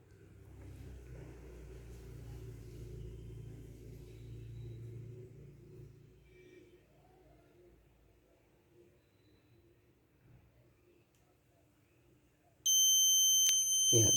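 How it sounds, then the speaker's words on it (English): Arduino-controlled automatic school bell alarm switching on abruptly and ringing loud and steady for the last second and a half, after a long stretch of quiet low rumble. "So second minute first bell should be on."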